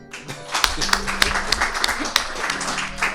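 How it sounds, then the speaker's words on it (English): Lecture audience clapping in scattered, uneven bursts with distinct sharp claps, while a voice speaks over it throughout. "You're still clapping."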